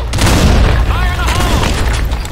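Grenade blast in the online shooter Blackshot, a loud booming explosion with rumbling debris and a ringing tail filling the whole moment, layered with game sound effects.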